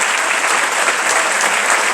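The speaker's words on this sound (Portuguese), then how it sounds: "Você pode aplaudir ao Senhor?" A church congregation at a celebration service breaks into steady, dense applause, a continuous wash of many hands clapping together, loud and close with no pauses throughout.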